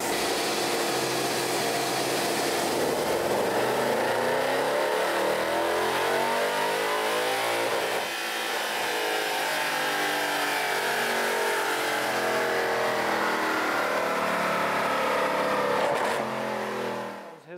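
Stage 2 Mercedes-Benz C63 W204 with remap and upgraded exhaust runs hard on a chassis dynamometer, its engine note loud and sustained as revs climb steadily through the gears, then cutting off at the very end.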